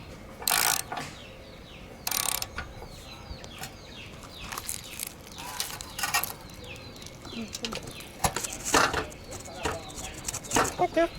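A socket wrench ratchets a fitting tight on the cooling system of a 505 V6 engine, giving bursts of sharp clicking at close range with pauses between them, while someone speaks now and then.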